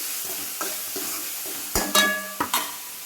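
Dried chillies, garlic, coriander and curry leaves stirred in a hot pan, a few soft scrapes followed by sharp spoon knocks and clatters against the metal with a faint sizzle underneath, no talk.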